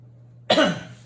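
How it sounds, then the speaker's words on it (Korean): One sharp, close human cough bursts out after a quiet low hum and fades within half a second. "기침이 나오는데"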